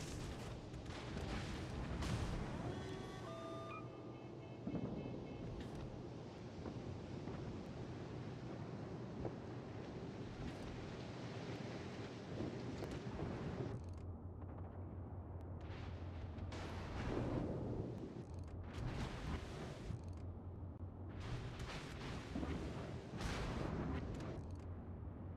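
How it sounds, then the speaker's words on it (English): Battleship broadside cannon fire in a naval combat video game rolls on continuously as heavy, booming salvos with a thick rumble, loud and sustained throughout with repeated bursts. "Here, he's gonna be giving you guys broadsides."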